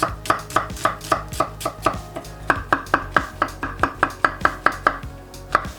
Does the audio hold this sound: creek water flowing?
no